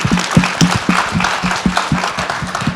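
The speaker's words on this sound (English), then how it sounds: "Can we give the staff a round of applause, please, for taking such good care of us?" Conference audience at an Asian American panel event applauds the staff, a lively round of clapping with some distinct, rhythmic claps standing out near the front of a steady crowd wash.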